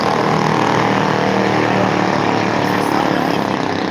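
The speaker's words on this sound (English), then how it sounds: "As soon as these goddamn motorcycles go by." A loud, continuous engine roar fills the air without pause, a heavy rumbling drone like motorcycles passing close by.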